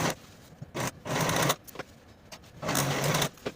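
A sewing machine runs in short bursts and pauses while finishing the edges of a pants fly extension and crotch seam, a close whirring stitch with quiet gaps between runs.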